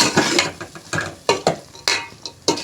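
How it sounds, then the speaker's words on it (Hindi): White lobia beans fried in masala in a pan, stirred with a utensil in repeated scraping strokes about every half second, with light sizzling beneath, close and fairly loud with no talking. "और इसे थोड़ा सा भूनेंगे। थोड़ी सी भुनाई करनी है, 5 मिनट तकरीबन।"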